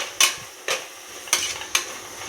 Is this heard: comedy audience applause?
no